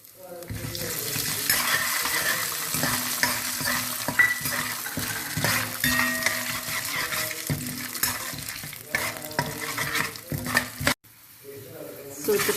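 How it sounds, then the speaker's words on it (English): Peanuts and dals frying in hot oil, a continuous sizzle broken by stirring and the clink of a utensil on the pan, with music underneath and a brief dropout near the end. "So the peanuts have got fried now, even the dals have become brown."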